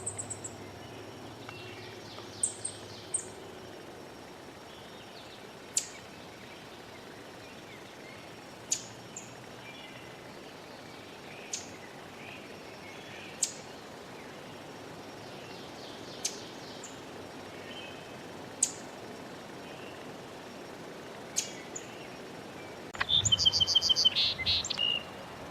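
A solitary sandpiper calls near a nesting site while its mate gives sharp, sparse chips at regular intervals over a faint outdoor hiss, with a brief louder rustling burst at the end.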